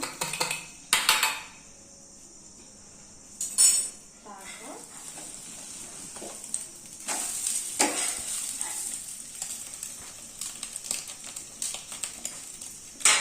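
Eggs with a pinch of salt are beaten in a bowl for homemade egg rolls, giving quick clinking and scraping strokes in uneven bursts over a steady background hiss.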